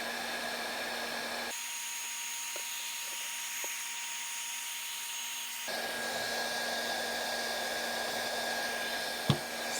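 Heat gun on its low setting warming a seized Traxxas TRX 3.3 nitro engine from a Nitro Rustler, a steady blowing hiss with a brief drop in the middle, one sharp knock near the end.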